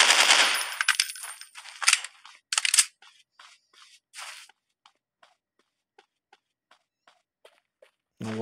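Rapid burst of sniper rifle shots in a dinosaur hunting game, loud and dense at first, then thinning into sparse, evenly spaced single cracks that fade quieter toward the end.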